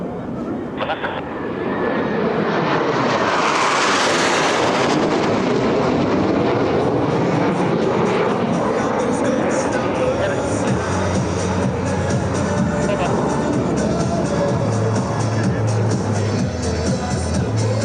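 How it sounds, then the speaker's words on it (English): Two US Navy Blue Angels jets, numbers 5 and 6, pass over the flight line at about 400 mph during an air show, a loud continuous engine roar that peaks and sweeps past, then rumbles on with crowd noise beneath. "Blue Angels 5 and 6 are approaching the flight line at 400 miles per hour"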